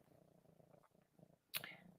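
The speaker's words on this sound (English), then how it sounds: "I'm sure they're hearing your lovely purring." A cat purrs softly in a quiet, rhythmic low rumble, interrupted near the end by one brief, sharp higher sound.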